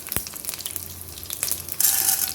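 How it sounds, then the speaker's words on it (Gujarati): Curry leaves dropped into hot oil with popped mustard seeds for vegetable upma: a steady close sizzle that suddenly swells into a louder, hissing crackle as the leaves hit the oil. "હવે લીમડો નાખીશું,"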